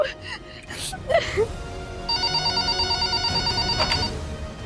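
A landline telephone rings indoors in a Hindi TV drama, a steady repeating electronic trill that starts partway in and pulses evenly for a couple of seconds, with a brief voice sound before it.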